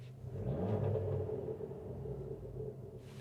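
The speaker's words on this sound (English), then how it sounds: "if I rev the engine" An Abarth 595 fitted with an Airtech induction kit revs from inside the cabin, a steady low rumble that swells briefly and then settles, with no talking over it.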